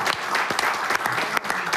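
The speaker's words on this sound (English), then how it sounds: "A big round of applause." An audience at a company sports tournament draw claps together in a dense, steady round of applause that runs the whole moment, fairly loud and close, with no voice rising above it.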